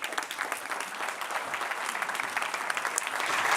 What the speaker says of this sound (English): I hope all agree that this deserves a round of applause